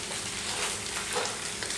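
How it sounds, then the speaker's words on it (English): Rice frying in neutral peanut oil on a hot stove, a dense, steady sizzle with light popping and crackling, close and continuous without talk. "if your stove is on, you can hear it popping"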